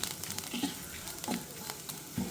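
Dry red chillies and coriander seeds roasting in a pan make a soft, steady crackle, broken by three light rattling stirs against the metal.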